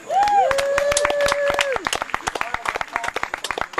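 Applause from a crowd at an outdoor folk music club picnic, scattered hand claps running under a voice that speaks over the start, then thinning out into separate claps.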